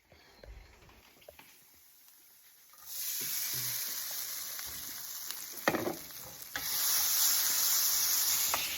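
Soaked pearls hit a hot pan already holding carrots, peanuts and curry leaves, bringing a quiet rustle that bursts into a loud, steady sizzling hiss, with a brief crackle and then an even fiercer surge of frying.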